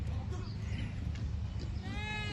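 A billy goat gives a short, wavering bleat near the end, heard over a low rumbling outdoor background with people murmuring.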